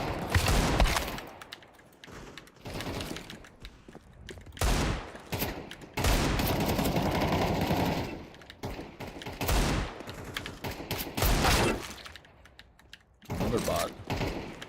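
Rapid bursts of video game gunfire from a competitive shooter match, loud crackling volleys coming in repeated clusters throughout, interleaved with brief gaps.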